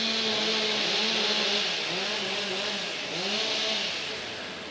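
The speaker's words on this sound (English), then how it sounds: "Okay, warm up your saws." STIHL chainsaws warming up at a timbersports competition drone loudly and continuously, with the engine pitch rising and falling through repeated revs that overlap in a sustained, close roar.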